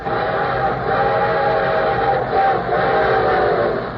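A train rumbles steadily with a sustained, layered whistle sounding over it, loud and continuous throughout; a sound effect opening a radio show.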